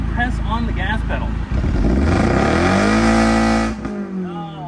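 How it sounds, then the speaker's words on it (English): A car with a manual transmission revs hard as the gas pedal is pressed, the engine note climbing loudly up and holding high before dropping back, close by, with brief voices at the start and end. "go ahead and press on the gas pedal"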